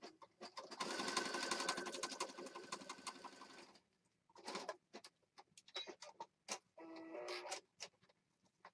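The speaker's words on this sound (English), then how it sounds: "And then I'm going to sew right here." A sewing machine stitches paper pages of a junk journal, first a loud, fast continuous run, then short, stop-start bursts of stitching in a quiet room.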